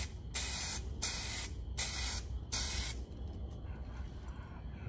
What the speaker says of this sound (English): When y'all spray this clear coat, you want to have a mask on because it's real strong